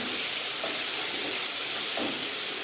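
Marinated chicken with cumin powder hitting a hot pan for a Bengali mustard chicken, giving a loud, steady sizzling hiss that holds evenly throughout with no voices over it.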